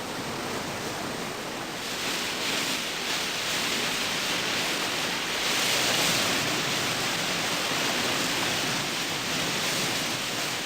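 Surging river rapids just below the Paloona Dam, with stopper waves, roar as a dense, constant rush of white water, loud and close, steady throughout without voices.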